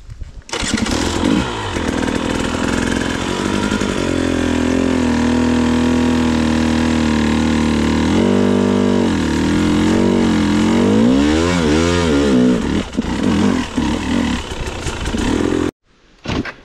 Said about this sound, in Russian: Заводи, гнилый мопед, блядь.